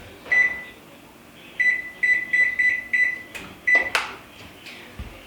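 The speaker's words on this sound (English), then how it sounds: "I'm gonna go ahead and preheat my oven to 325 degrees Fahrenheit" Kitchen oven being set to preheat to 325 degrees Fahrenheit: a string of sharp electronic beeps as buttons are pressed, in uneven clusters over a faint hum, followed by a brief clunk near the end.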